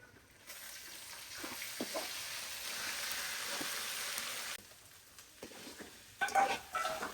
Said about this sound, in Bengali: বিরিয়ানির জন্য এখানে পেঁয়াজ বেরেস্তা করতেছি